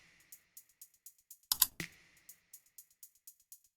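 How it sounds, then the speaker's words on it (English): Keystrokes on a computer keyboard arrive as a steady run of light, evenly spaced clicks, with a louder cluster of presses partway through. The clatter is close and quiet, with no voices. "Then type prefetch and click OK."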